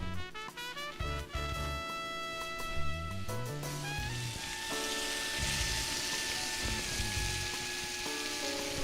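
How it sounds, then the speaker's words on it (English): Steady sizzling of Juicy Lucy burger patties frying in a preheated pan, a constant crackling hiss with music playing over it throughout. "You get that nice sizzling sound right there"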